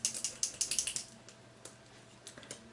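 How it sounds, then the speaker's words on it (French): A brown eyeliner being shaken to mix its pigments, giving a quick series of rhythmic rattling clicks that then trail off into a few sparse taps, close and alone. "Je secoue pour mélanger les pigments."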